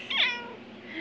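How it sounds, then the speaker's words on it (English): A house cat lets out a single loud, drawn-out meow that rises and falls, close by, with a quiet room behind it and no talking. "Why is the cat screaming?"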